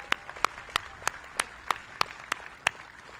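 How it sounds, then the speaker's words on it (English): At the grand opening of The Fields at RFK Campus, a small crowd applauds outdoors, with loud, distinct near claps rising above a thinner, quieter patter of hands. "Let's give them another round of applause."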